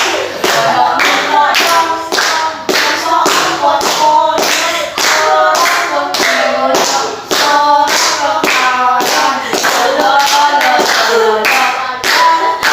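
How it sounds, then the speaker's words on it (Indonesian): A group of students claps in rhythm along to an ice-breaking clapping song during a group counseling session, sharp, loud claps in a regular beat with sung voices woven between them. "Nanti kita semua tepuk tangan."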